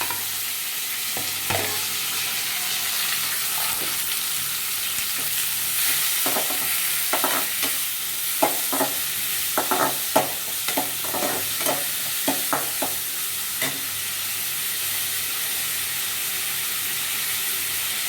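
Salted onions sauté in a pan for potato masala and brinjal thokku under a constant loud hiss of frying, with scattered spoon scrapes and light clinks in the middle stretch, near and steady, no one talking.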